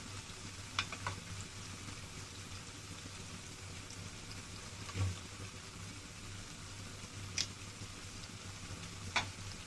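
Jalebi batter frying in very hot oil, with a quiet, continuous bubbling sizzle and a few faint clicks and taps scattered through it, and no talking.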